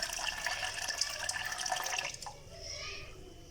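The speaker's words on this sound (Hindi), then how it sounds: "यहाँ पे मैंने आधा जग जो है वो पानी ऐड कर लिया है।" About half a jug of water pours in over sugar and plums for plum juice, a steady close splashing stream that eases into a softer trickle toward the end.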